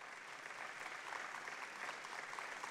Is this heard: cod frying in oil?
no